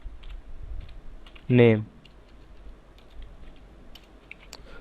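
Computer keyboard typing in light, scattered keystrokes while a man explains PHP scripting, his voice briefly over the clicks.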